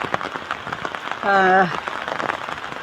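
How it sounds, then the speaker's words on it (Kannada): Heavy rain patters steadily and densely on surfaces, with a short tonal sound cutting in briefly midway. "ಮಳೆ ಅಂತ ಫುಲ್ಲು ಬರ್ತಾಯಿದೆ. ಮಳೆ ಒಳಗಡೆನೇ ಹೋಗ್ತಾಯಿದ್ದೀನಿ. ಮಳೆ ಜೋರಿದೆ"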